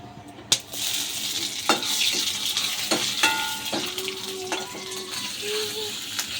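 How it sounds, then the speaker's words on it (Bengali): Dried red chilies and spices crackling in hot oil while a pan of potato and pointed gourd with ginger paste is stirred, giving a soft sizzle under sharp spoon knocks and scrapes. "শুকনো লঙ্কা আর ফোড়ন দেবো"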